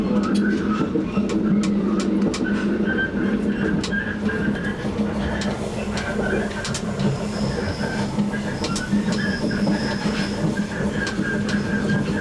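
Inside the cab of a Wellington commuter train, a steady rumble of rolling wheels carries throughout, with faint clicks and squeals over track joints.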